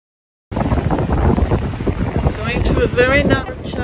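A boat runs at about 8 knots through a narrow gap in the Cyclades, with loud, constant wind buffeting and a water rush underneath, plus a brief faint whistling tone near the end.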